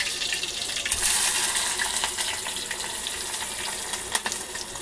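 Curry leaves and onion hit hot oil for a tadka, giving a bright, hissing sizzle that swells early and then settles into a steady crackle, close by with no voices.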